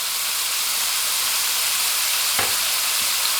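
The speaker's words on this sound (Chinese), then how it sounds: "热后加入220克的猪肉馅儿， 翻炒均匀。 炒至肉馅变色" 220 grams of minced pork stir-fried in a hot pan give a loud, steady, close sizzle throughout, with a couple of brief scraping knocks from the stirring.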